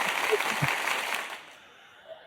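Canned applause from a soundboard button swells briefly and then fades out quickly, with faint talk underneath.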